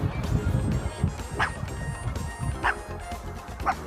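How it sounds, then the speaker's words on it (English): A dog on a coastal cliff-top path gives several short, sharp barks at a moderate distance, mixed with wind and outdoor noise. "I'm going to get attacked by a dog."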